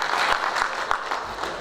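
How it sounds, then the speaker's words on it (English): A crowd at a university event applauds in a continuous wash of clapping, even and sustained, heard from within the hall. "Please, I would like you to recognize them with a round of applause"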